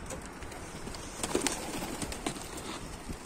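Soft pigeon coos and faint fluttering over a broad outdoor hiss in Mardin, Turkey, with a few brief louder bursts partway through.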